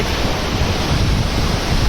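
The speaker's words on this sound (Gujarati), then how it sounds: "આશરે બદ્રીનાથ ધામની અંદર નદી જઈ રહી છે" A river rushing through Badrinath dham makes a steady, loud, broadband roar of flowing water with no pauses and no voices over it.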